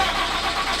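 A 1100 hp fifth-generation Cummins diesel truck nicknamed HellBoy sounds close and loud, a steady broadband engine roar with no clear cranking pattern, continuous through the short moment.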